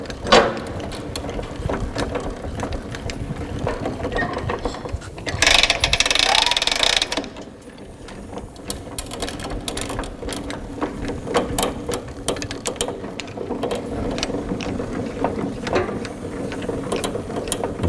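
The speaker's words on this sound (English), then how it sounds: "hold the bracket upright and turn the winch handle anti-clockwise" The winch handle on the elevator of a Posch S-376 firewood processor is turned anti-clockwise, making a continuous close ratcheting clatter with a brief louder whirring burst partway through.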